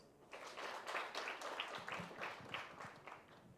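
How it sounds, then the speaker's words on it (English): Round of applause from an event audience at a strategy launch, steady clapping of moderate loudness at some distance, sustained through the whole stretch with no speech. "Another round of applause."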